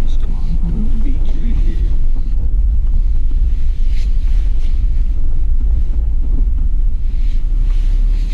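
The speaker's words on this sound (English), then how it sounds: "It's very windy." Strong wind buffets the microphone beside a lake, a loud, constant low roar and rumble with waves crashing on the shore, lasting throughout with no speech.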